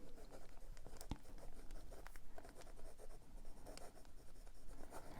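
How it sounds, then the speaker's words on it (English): A Jinhao Shark fountain pen writes reverse-side on paper, making close, soft scratchy strokes in a quick irregular rhythm with a few sharper taps, otherwise quiet with no talking. "Reverse writing took a second to get going, but it does."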